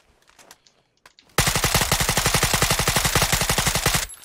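Loud, sustained automatic gunfire in the battle royale game PUBG, a long fast burst of evenly spaced shots that cuts off abruptly, preceded by a few quieter scattered shots and noises.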